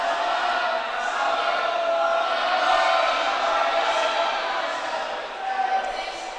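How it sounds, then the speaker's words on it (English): A rowdy crowd at the end of the lanes during a boys' prep-school swimming championship, a steady roar of cheering and shouting in a reverberant indoor pool hall, sustained and moderately loud. "A little bit rowdier of a crowd down at the end of the lanes"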